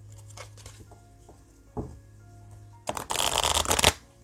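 Oracle cards being shuffled by hand in a tarot reading: a few light taps and slides, then a dense, loud riffling burst near the end, close up with no talk.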